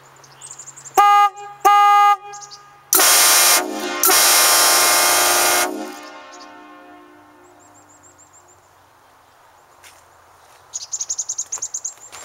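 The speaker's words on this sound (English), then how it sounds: "First I'm going to do just a control, the regular horn, and then I'll do the train horns." Two short blasts from a regular car horn, then the Hornblasters Shocker 240 Conductors Special train horn kit sounding two long, loud multi-tone blasts that ring and fade into quiet, with birds chirping nearby afterward.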